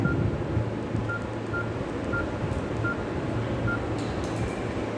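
A phone tone repeats in short evenly spaced beeps over a steady low background hum during a class lecture, continuing alone throughout without talk.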